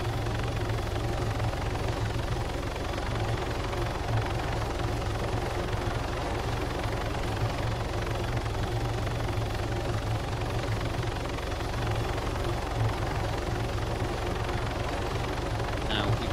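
A helicopter in the video game Arma 3 produces a steady, loud rotor and engine drone that holds unchanged throughout without a break.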